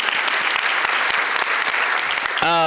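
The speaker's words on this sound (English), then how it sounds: "Janice is here, so I just want to get everybody to give her and Lexi a round of applause" An audience at a high school senior awards ceremony claps steadily in a sustained burst of applause, a dense wash of hand claps that fades at the end.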